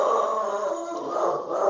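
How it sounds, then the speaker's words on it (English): A dog barking and howling, a drawn-out, wavering howl that sounds close and loud and continues without a break for a couple of seconds. "Apparently the dog takes great umbrage."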